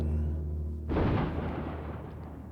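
Three naval cruisers open fire at sea, a sudden heavy boom that bursts in and rolls on as a long rumbling roar over a low steady engine drone.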